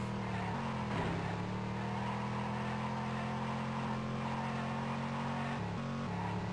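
A car engine in the PC racing game Destruction Derby drones loudly and steadily throughout, its pitch shifting slightly as the car revs and eases off, with no talk over it.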